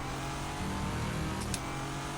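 Nissan GTR-LM race car engine in rFactor 2 holds a steady, loud drone at near-constant revs, with a brief rise and fall in pitch midway and no talk over it.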